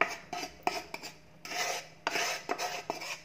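Roasted ragi flour being stirred in a mixing bowl, with close scraping and rasping strokes in uneven bursts of varying length and a few sharper knocks against the bowl.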